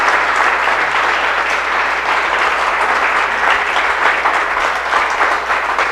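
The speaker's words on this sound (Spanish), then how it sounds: "Le damos un fuerte aplauso a Dios, por favor" A church congregation at a Sunday service gives a loud, vigorous round of applause, dense continuous clapping close by that holds steady for several seconds without speech.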